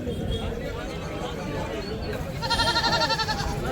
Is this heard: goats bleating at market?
yes